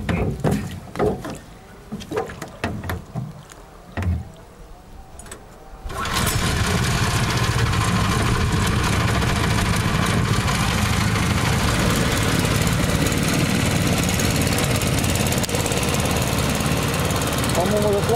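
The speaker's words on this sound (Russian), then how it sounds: "На средних оборотах тянет спокойненько, без напряга, мотор без напряга, винт без напряга, тянет," A swamp boat's engine with propeller fires up after a stretch of people talking and knocking sounds, then runs at steady medium revs as a loud, even drone filling the rest of the clip.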